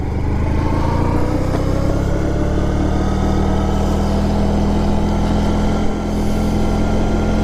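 A 1994 Honda ST1100 touring motorcycle's engine drones steadily while riding, a loud continuous hum mixed with wind rush, holding a nearly constant pitch throughout.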